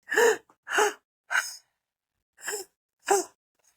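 Slow, deliberate breaths during guided breathwork, five distinct audible inhales and exhales spaced about a second apart with near silence between, close and breathy, no voices.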